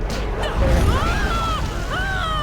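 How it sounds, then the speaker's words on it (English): Cannon fire in the video game Jade Empire makes heavy, rumbling booms with a loud crashing low end, layered under sweeping tonal game sounds. "Cannon fire, look out!"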